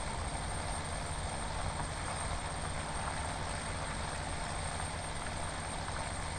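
An International 1456 turbo tractor engine in Farming Simulator 17 drones steadily at an even, constant level with no pauses or voices.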